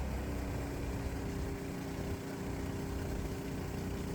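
Gasoline engine of a custom-built gasoline/electric hybrid vehicle runs at a steady, even hum with no breaks, fairly close and moderately loud.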